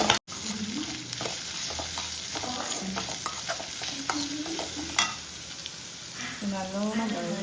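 Onions sauté in a pan for mutton masala with a loud, constant sizzle and busy stirring scrapes close by, while a voice is faintly heard toward the end.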